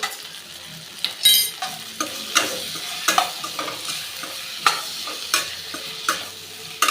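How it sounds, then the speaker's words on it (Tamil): Bitter orange with turmeric and salt sautés in a pan, a soft sizzle broken by repeated sharp scrapes and knocks of a spatula stirring at irregular intervals, close and without talk. "இது ஒரு அஞ்சு நிமிஷமாவது இதை வதக்கிக்கலாம்"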